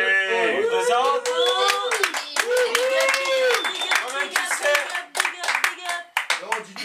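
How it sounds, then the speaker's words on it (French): Theatre audience clapping to welcome an MC, scattered sharp handclaps under lively talking and exclamations, applause loosely rhythmic and close, voices dominating the start. "Applaudissez-le."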